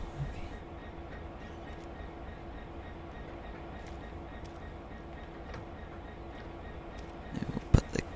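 A steady low rumble and hum from a locomotive engine in a train simulator, idling evenly for several seconds, with a few sharp clanks near the end.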